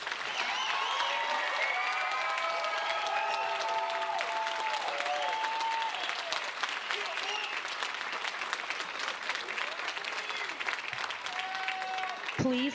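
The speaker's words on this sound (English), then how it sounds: "Please give a final round of applause for our graduates." An audience applauds graduates at a Millville High School graduation ceremony, steady sustained clapping through the whole stretch with voices and cheers mixed in.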